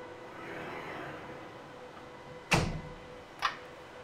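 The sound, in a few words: closing the door of a Genexus sequencer instrument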